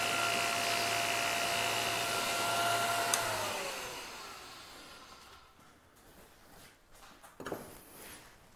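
Work Sharp belt knife sharpener fitted with a structured ceramic belt whirring steadily as an electric motor, then winding down and stopping partway through, followed by quiet handling noises and a brief clack.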